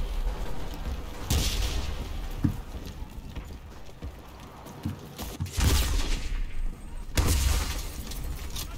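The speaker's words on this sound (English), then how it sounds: "I'm like tossing every nade I have down there." Combat in the video game Enlisted, with grenades tossed at the front line: a few sharp bursts of explosions and gunfire break through a rumbling, clattering battle din.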